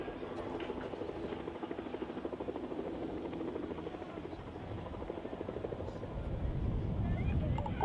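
A Chinook twin-rotor helicopter departs during a roll display at RAF Cosford, its steady loud rotor thump and turbine whine filling the air and swelling slightly toward the end.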